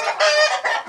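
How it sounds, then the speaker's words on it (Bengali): Sonali chickens on a poultry farm in West Paushar cluck loudly and close by in two quick, strained bursts, with no voices. "দেখেন সব সোনালি মুরগি"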